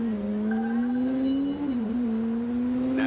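A Dodge Challenger engine in the MindsEye video game revs in a steady, loud drone, its pitch holding level, dipping briefly mid-way and then climbing again.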